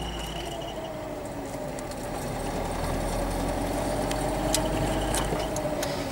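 A Polonez car engine running with squealing drive belts: a steady engine drone with a thin high whine riding on top, continuous and close.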